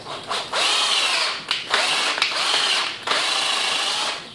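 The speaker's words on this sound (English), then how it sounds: "So, put the old drill on" A power drill runs in close, loud bursts, cleaning up parts for a 350 Chevy engine, briefly pausing and restarting several times.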